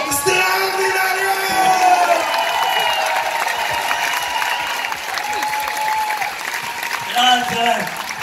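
Large outdoor crowd at Piazza Grande in Locarno applauding a guitarist at a guitar festival, sustained clapping with whoops and shouts, voices speaking over the cheering.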